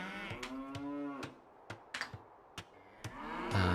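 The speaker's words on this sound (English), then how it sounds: "Okay, let's get these cattle here." Cattle moo in a strategy video game, with a drawn-out low moo followed by a series of sharp mouse or keyboard clicks spaced across the clip.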